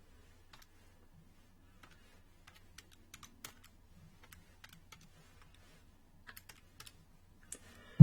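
Keyboard typing while entering a calculation, heard as sparse, soft, scattered key taps up close in a quiet room, with one louder knock at the very end.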